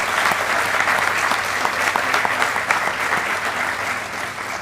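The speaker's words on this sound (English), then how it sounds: "let's give them a round of applause for everyone behind the scenes" A crowd applauds at the Honolulu District change of command ceremony, with thick, continuous clapping that stays at an even level throughout.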